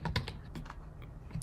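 Quick bursts of key presses on a Mac computer keyboard, a handful of close, light clicks in an uneven rhythm with short pauses between them.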